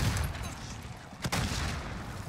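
Gunfire in a multiplayer shooter video game: a continuous noisy rattle of shots, broken by one sharp, loud burst partway through, with no voices.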